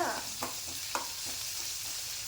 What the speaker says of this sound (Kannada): ಇವಾಗ ಈರುಳ್ಳಿನ ಚೆನ್ನಾಗಿ ಫ್ರೈ ಮಾಡಬೇಕು.